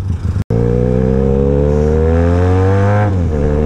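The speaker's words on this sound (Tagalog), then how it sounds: "Kagaya ng mga motor na yan, napakatulin ng takbo nila." A motor vehicle speeds past up close on a busy road, a loud rising engine roar that holds its pitch, then drops and fades as it passes. No talking is heard.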